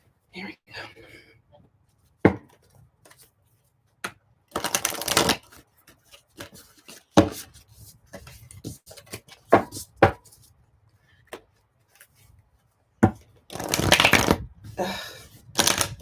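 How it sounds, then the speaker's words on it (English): A deck of cards being shuffled by hand, with bursts of riffling and slapping separated by pauses, close and fairly loud, followed by cards scattering. "you want to see some shuffling?"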